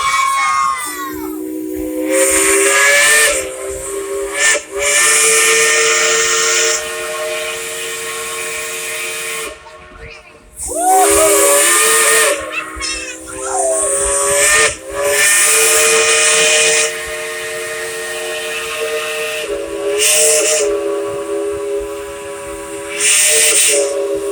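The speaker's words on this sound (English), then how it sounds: "Blow the whistle." The Dollywood Express steam locomotive whistle blows in several long, loud blasts, each with a hissing rush of steam, separated by short pauses.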